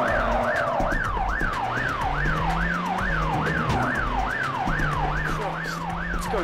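An ambulance siren in the video game The Getaway wails continuously in a fast rising-and-falling pattern, loud and close, over rumbling traffic and engine noise.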